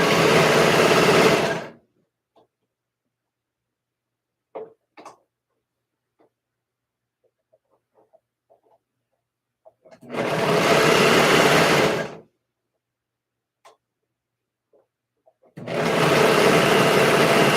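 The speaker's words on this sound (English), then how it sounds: "now working on the bottom, serging the edge" A serger sewing machine runs in three loud, steady bursts of about two seconds each while edging the bottom of a dress, with quiet pauses and faint handling clicks between runs.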